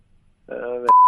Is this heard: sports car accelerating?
no